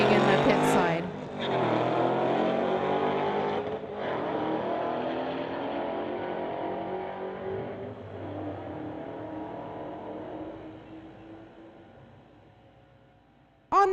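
At a street-legal drag strip, a 1997 Dodge and a Mustang launch and roar away down the track, the loud engines revving through gear changes and fading steadily into the distance.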